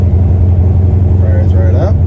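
Car fitted with a TREMEC TKX transmission idling in neutral just after starting, a loud, steady low engine rumble up close, with a voice speaking over it near the end.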